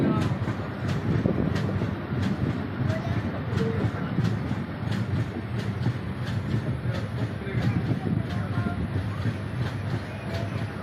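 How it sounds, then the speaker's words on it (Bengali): A train pulls out of Adra station and rolls along with a steady heavy rumble and a regular clickety-clack of the wheels, heard loud from inside the carriage. "এই আমরা এখন বার হচ্ছি আদ্রা থেকে ট্রেন ছাড়ে দিয়েছি।"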